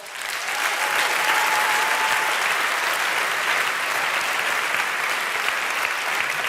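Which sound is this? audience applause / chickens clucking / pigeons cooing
audience applause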